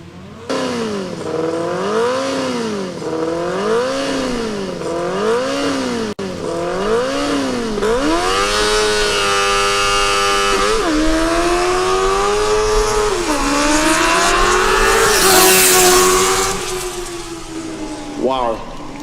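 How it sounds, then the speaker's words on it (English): A Formula Student race car launches hard with plenty of wheel spin, its engine note rising and falling through gear changes, then climbing loudly as it accelerates past at a historic acceleration event, with a commentator talking over it. "pretty good acceleration, actually quite a good launch. A lot of wheel spin"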